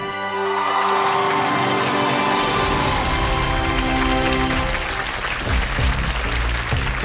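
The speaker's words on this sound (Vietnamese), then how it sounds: "xin một tràng pháo tay để chúc mừng cho" An audience at a singing contest breaks into sustained applause for a female contestant, steady clapping over a swelling instrumental backing track that carries through to the end.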